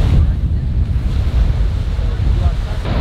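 Surf rolls onto the beach at Las Canteras, Gran Canaria, a continuous close wash of waves mixed with strong wind buffeting the microphone.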